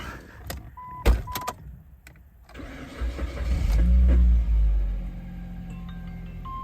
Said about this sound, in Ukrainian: Так, машина запустилася.